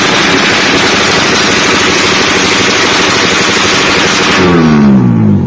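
Rapid, loud crackling pops fire continuously from a Malaysian drag-style motorcycle's aftermarket pipe over a rumbling engine, ending with a brief rising rev.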